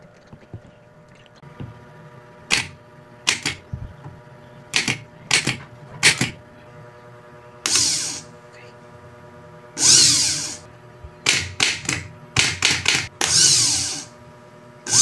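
A rebuilt Suzuki Multicab F6A starter motor with new carbon brushes, powered straight from a battery, spins in repeated short whirring bursts separated by brief pauses, loud and close.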